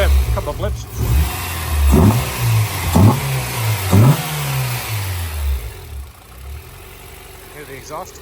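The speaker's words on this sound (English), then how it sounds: "Can I give it a couple of blips?" A car engine idles, then three sharp throttle blips rise and fall about a second apart, each revving up and settling back to idle, loud and close, with voices talking over it.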